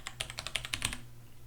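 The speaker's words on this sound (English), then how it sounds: "watch what happens even if I type very rapidly like you would normally do" Quick, light clatter of rapid typing on a computer keyboard, a burst of about a dozen keystrokes lasting under a second before falling quiet; close and fairly soft.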